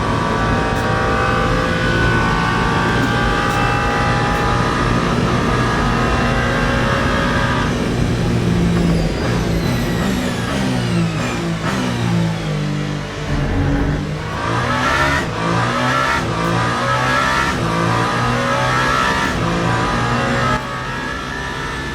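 A Ferrari race car roars past in the Le Mans Ultimate sim racing game at the 24 Hours of Le Mans, its engine loud and close, revving and shifting with a sharp pitch sweep as it passes, other cars droning steadily underneath.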